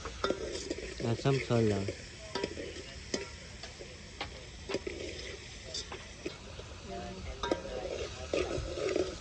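Tomatoes being stirred into a frying pan with spices, a steady sizzle running under the clicks and scrapes of a utensil, with a person talking over it in places.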